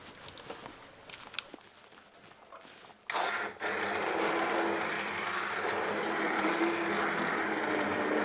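A kitchen blender starts after some faint handling clatter and whirs steadily and loudly, blending a thick tikka masala sauce in a continuous drone.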